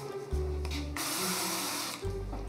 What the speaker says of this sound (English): give it a little spray of cooking oil